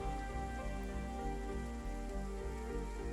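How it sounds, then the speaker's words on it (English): Steady rain falls in the Mars colony-building game Surviving Mars, a soft continuous patter under a quiet, even game background with no talking. "This rain's going to help the vegetation."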